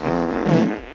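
A fart, one sustained squishy, buzzing blast lasting about a second, close and loud, with no talking over it.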